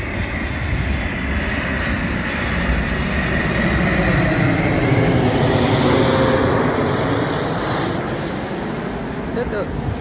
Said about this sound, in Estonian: vahest tuleb nagu selline suur lennuk